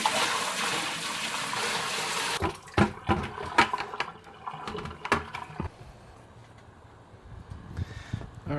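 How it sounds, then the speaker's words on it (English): Water rushes steadily while a deep fryer is rinsed out outdoors, then gives way to uneven splashing and gurgling pours, close and fairly loud, with no talking. "This is a good sign. The water's starting to flow clear."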